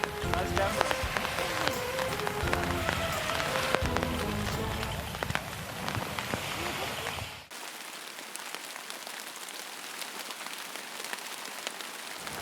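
Rain falling at a beach, a steady dense patter on surfaces that runs throughout, with a crowd-like wash and scattered voices under it, turning to a thinner, quieter hiss for the last few seconds.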